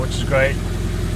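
A Mini's exhaust idles cold with a raw, steady low rumble beneath someone talking close by.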